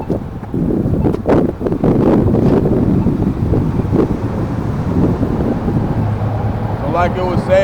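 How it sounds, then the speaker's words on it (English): Strong outdoor wind buffets the microphone in a steady, loud roar with gusty swells, and a voice speaks over it at times. "Alright, it got windy."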